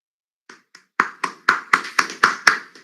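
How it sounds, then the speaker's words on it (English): A small audience applauds a club performance at a college conclave: a few scattered claps at first, then a run of loud, evenly spaced clap bursts close to the microphone, tapering at the end. "A big round of applause for club expressions"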